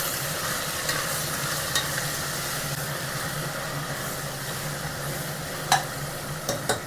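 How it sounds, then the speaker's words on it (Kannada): Onions sizzle steadily in a pan, salted to speed the frying, with a continuous crackling hiss and a few sharp clicks of a utensil against the pan. "ಸೊ ಈರುಳ್ಳಿ ಫ್ರೈ ಆಗಕ್ಕೆ ಬಿಡ್ತೀನಿ."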